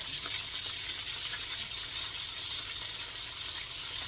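Fresh mud crab fries in a pan, giving an even, continuous sizzling hiss at moderate level with faint crackles throughout and no talking.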